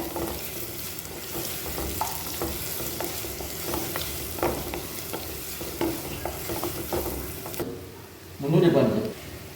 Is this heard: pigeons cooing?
no